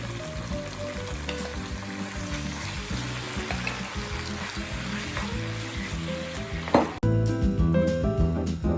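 Seafood fries in a pan with tom yum paste for tom yum spaghetti, giving a steady close sizzle with scraping stirs throughout and a sharp clatter near the end, with no talking.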